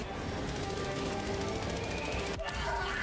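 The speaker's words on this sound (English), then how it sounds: "Warning, you are in range of enemy artillery." An enemy artillery strike in Helldivers 2 lands as a dense, continuous barrage of blasts and rattling gunfire, loud and crowded, with a brief dip in the din before it roars on.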